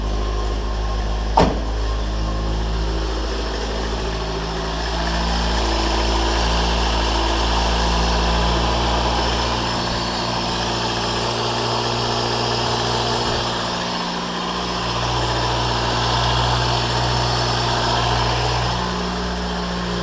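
A Toyota AE86 engine, with a starter that sometimes sticks, catches after a sharp click and settles into a loud, steady low idle that rises and dips slightly, close by with no talking.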